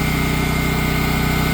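A Generac 24kW or Champion dual fuel standby generator running its weekly exercise, a loud, steady engine drone with a constant hum and no breaks or voices.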